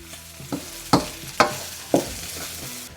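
Beef stirred in a pan over medium heat gives a series of four or five firm scraping strokes at a loose rhythm over a faint, continuous sizzle.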